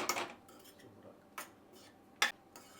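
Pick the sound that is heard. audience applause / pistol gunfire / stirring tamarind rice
stirring tamarind rice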